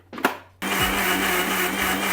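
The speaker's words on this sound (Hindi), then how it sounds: "अब इस मिक्सचर को हम मिक्सी में ब्लेंड करने वाले हैं।" A kitchen mixer grinder starts up after a short knock and runs steadily, blending a sauce of milk with ginger garlic paste, its loud continuous whir with a low motor hum filling the space.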